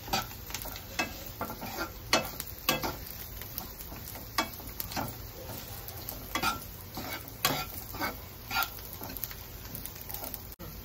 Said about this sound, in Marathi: आता सुकं खोबरं टाकून घेते आणि गरम सामान पण टाकते. आता चांगलं लाल करून घेते.